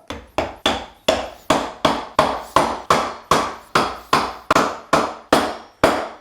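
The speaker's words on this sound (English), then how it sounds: "hammer a square peg into a round hole" Steady hammer blows driving a square wooden peg through a round hole in a dowel plate, about a dozen sharp strikes at a regular pace, close and loud with no talking.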